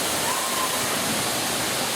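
Water is drained by hand from a hot tub, a continuous loud rushing and splashing flow with no break.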